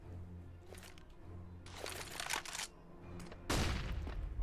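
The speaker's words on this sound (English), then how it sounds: "Sends a nade in. Nade does a few points of damage to Nem." A grenade bursts and gunfire crackles in a Counter-Strike match, as a few sharp shots and bursts against low background noise, ending in a loud heavy blast.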